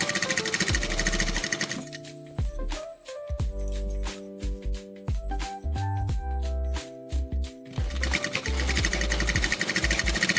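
Sewing machine stitching curtain fabric in bursts, its rapid mechanical chatter starting and stopping several times between short pauses, loud and close with no talking.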